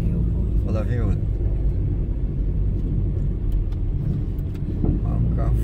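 A car approaching on the mountain road climbing the Serra de Teixeira, its engine rumbling steadily and growing nearer as people talk over it.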